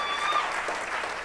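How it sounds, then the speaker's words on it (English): A PechaKucha Grand Rapids audience applauds the crew and volunteers, a brief burst of crowd clapping, steady and moderately loud, with a faint tonal whistle early on. "Give them a round of applause."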